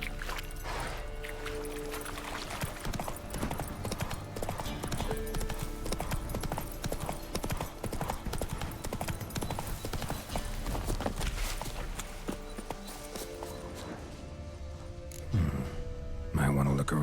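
Roach the horse trots along with steady, continuous clip-clopping hooves in The Witcher 3, under a busy game soundscape with brief speech near the end.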